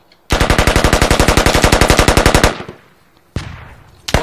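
A long, loud burst of machine gun fire in the military shooter Squad, on the Yehorivka map, with evenly spaced rapid shots for about two seconds, then a single loud shot and a fresh crack at the very end.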